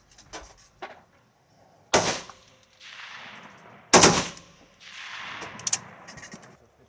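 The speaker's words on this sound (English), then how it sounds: "warmed up the gun and fired a series of shots for a competition" A rifle is fired outdoors during a shooting competition: two loud, sharp reports, each trailing off in a long rolling echo, with quieter clicks and handling noises of the gun between them and no voices.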